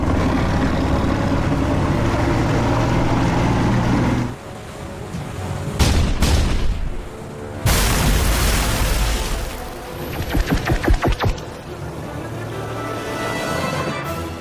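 A battleship's forward 5-inch guns fire in a sci-fi action film: loud booming blasts, several sharp shots in quick succession and a rolling rumble between them, with no talk.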